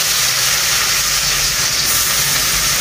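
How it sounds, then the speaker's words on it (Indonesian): Anchovies frying in hot oil, a loud, steady, close sizzling hiss that runs unbroken without any voices. "Ikan terinya kita gorengnya pakai minyak ini aja lah ya"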